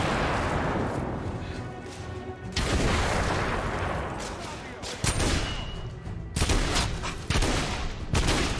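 A grenade explodes in The Order 1886 with heavy booming blasts and rolling broadband crashes, several bursts over a few seconds amid loud battlefield noise.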